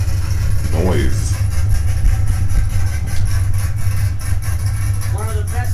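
Loud, close engine roar from a street race between a naturally aspirated Corvette C6 Z06 and a single-turbo BMW M4, holding a steady heavy drone throughout with voices talking over it.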